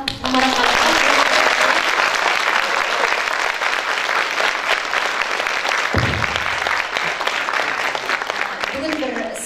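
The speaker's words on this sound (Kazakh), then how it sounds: "Ду қол шапалақта Тамара ханымға." A seated audience at a public meeting applauds loudly and continuously for several seconds. The clapping stays dense and close throughout, and a voice briefly surfaces near the start and end.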